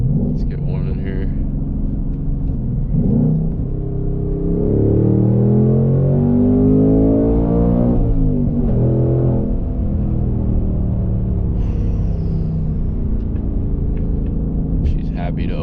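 A 2026 Ford Mustang GT V8 accelerates hard on a road pull, its engine note rising in pitch over several seconds from inside the cabin, loud and continuous, then easing off, with brief talk at the edges.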